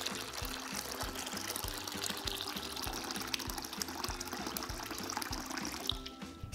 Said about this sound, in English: Then add about 4 cups of room temperature water.